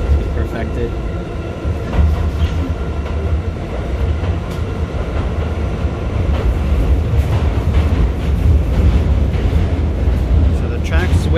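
An NYC subway R68A train runs on the IND 8th Avenue Line, a loud steady rumble and rattle from inside the car with faint rhythmic wheel clicks over the rails throughout.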